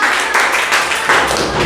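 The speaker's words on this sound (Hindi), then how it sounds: "एक जोरदार ताली होना चाहिए" Applause in a classroom maths quiz after a student's correct answer, a dense burst of clapping from a group filling the whole short stretch at steady volume.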